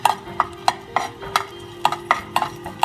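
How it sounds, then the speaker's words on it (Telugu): Garlic frying in a pan for a jowar soup, with regular scraping stir strokes of a utensil against the pan roughly every third of a second over a low background sizzle, close and fairly loud, no talking. "దీన్ని బాగా వేయించుకోవాలండి."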